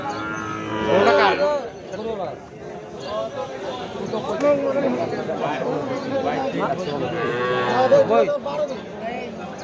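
Cattle moo at a small livestock market, several long drawn-out bellows rising over crowd chatter and people haggling nearby.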